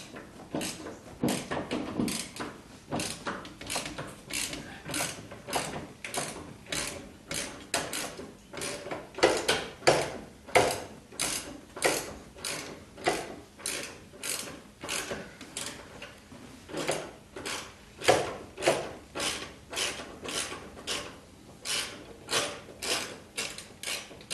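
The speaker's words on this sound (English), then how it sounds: "now with my favorite trick of the long extension, I can get on that bottom bolt" Ratchet on a long extension working loose the bottom bolt of a 1976 Corvette steering column, giving a steady run of quick clicking strokes in repeated bursts, close up with no talking.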